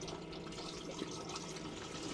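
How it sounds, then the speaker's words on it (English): Water drains from a van's freshwater tank, which holds steriliser, into its grey tank, making a steady faint trickling and splashing wash with no talking. "You can hear it dripping down into the other one."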